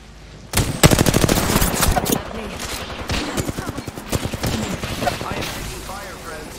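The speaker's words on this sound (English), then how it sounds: "I am taking fire, friends." Rapid automatic gunfire in the Apex Legends shooter, loud and close, with dense bursts of shots followed by scattered, uneven reports and game effects.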